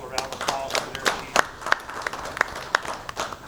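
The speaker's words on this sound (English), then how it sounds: "I'd like to give Clark Elementary School a round of applause for their" Applause at a school board meeting honoring an elementary school, a sparse scattering of distinct individual claps at a loose, uneven rhythm, fairly close and moderately loud, with faint voices underneath.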